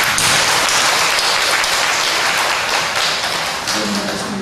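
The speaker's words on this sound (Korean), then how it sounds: "큰 박수 한번 하겠습니다" A church congregation at a Sunday worship service applauds in a dense, loud wash of clapping that holds steady for several seconds before easing slightly at the end.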